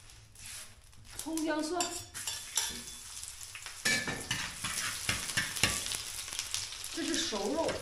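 Bean buns fry and sizzle in an oiled pan in a home kitchen in rainy northeast China, with utensils stirring and clinking against the pan, close by, while voices talk intermittently over the cooking.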